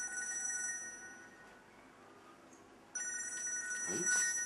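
A mobile phone rings in two bursts of steady, tonal electronic ringing, with a short gap between them and a brief noisy rustle near the end, all fairly quiet against a hushed room.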